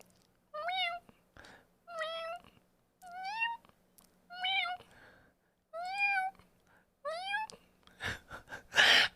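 A person imitates a cat, meowing six times in a slow, evenly spaced series of rising, wavering calls, followed by a few short breathy bursts at the end.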